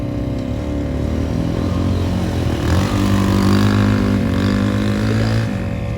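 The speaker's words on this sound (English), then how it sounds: "So again, going off the ARB twin air compressor in my Jeep." An ARB twin air compressor runs inside a Jeep with a steady, droning motor hum, loud and continuous with a slight swell partway through; no speech is heard.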